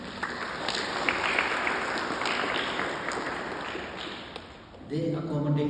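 An audience at a Girmit commemoration gathering claps in a steady, dense burst of applause that fades toward the end before a voice resumes speaking.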